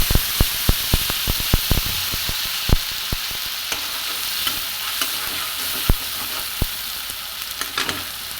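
Spice paste for fish curry fries in hot oil with a continuous sizzle and hiss, punctuated by repeated sharp clicks and taps of stirring, denser at first and then more spaced out.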